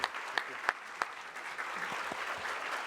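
A small audience at a historic preservation awards ceremony claps, a few sharp early claps spreading into scattered, steady applause for a few seconds, moderately distant, no speech.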